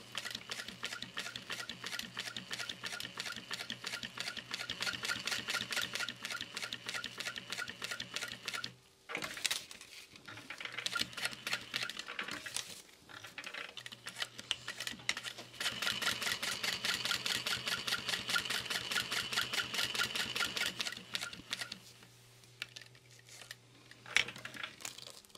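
A sewing machine stitches a zipper onto a backpack in long runs of rapid, rhythmic needle clatter, pausing briefly a couple of times before starting again, close and steady with no talking.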